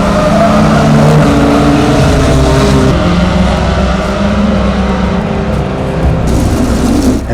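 V8 race cars roar around a track in a V8 Sprint heat, a loud, continuous blend of engines with shifting pitch as cars pass close, no talk over it.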